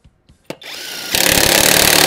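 A cordless power tool driving a car lug nut back on, starting with a few clicks and a sharp knock, then a steady motor whine that breaks into loud, rapid impact hammering, close up with no talking.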